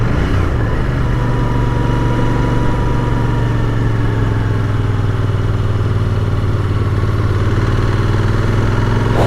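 A Royal Enfield Continental GT 650 twin idles steadily close by, a loud even throb that holds for the whole stretch with a slight rise near the end and no voices.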